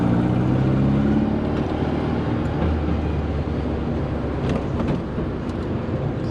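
A Volkswagen Beetle with a 1641 cc engine, ported heads and dual carburetors drives along, its air-cooled engine humming steadily with a low rumble from inside the car, with no talking.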